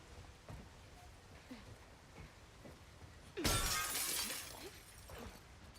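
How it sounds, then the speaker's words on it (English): Game window glass bursts apart in one loud, bright crash about midway, trailing into a scatter of tinkling shards over a quiet background rumble. "the puzzle just being a broken window"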